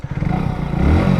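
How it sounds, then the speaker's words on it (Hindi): A Hero Splendor Plus BS6 motorcycle engine turns over and catches, a loud close-up clattering rumble that builds into a steady running note within about a second. "तो इस तरह से हम i3s बाइक को स्टार्ट करते हैं।"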